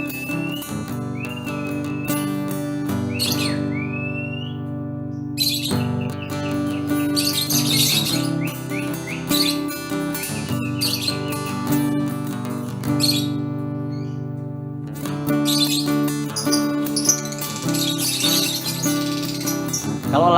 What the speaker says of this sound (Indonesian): Kalau lahbet yang dicari suaranya panjang.